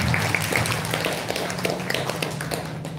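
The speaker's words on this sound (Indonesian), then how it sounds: "tepuk tangan sekali lagi untuk para pemateri kita" Audience at a school event applauding the speakers, a steady, dense patter of clapping from a room full of people that holds at an even level throughout without talk.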